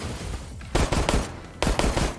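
Gunfire from a weapon in the video game Resident Evil Resistance: two loud bursts of rapid shots, the first about a second long and the second after a short pause, over a steady game background.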